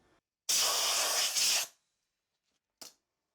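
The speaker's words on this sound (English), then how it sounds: "I'm gonna blow it one more time, compressed air" Compressed air blasts across a Porsche 915 transaxle case from an early 911 during restoration, one loud broadband hiss lasting about a second, then silence and a brief short puff near the end.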